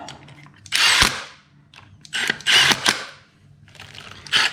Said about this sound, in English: when I hit this with the impact, I'm not driving these bolts on